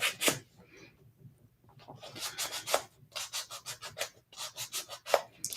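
Sheets of 800 grit sandpaper rubbed in quick back-and-forth strokes, giving a rhythmic series of close, raspy scratches in irregular bursts.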